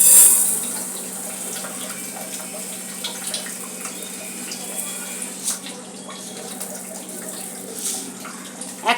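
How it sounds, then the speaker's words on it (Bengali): Water is poured from a cup onto sugar in a pan to make sugar syrup, producing a close, steady trickling flow with a few small splashes and a faint hum beneath. "এক কাপ মতন আমি জল এতে ঢেলে দিলাম"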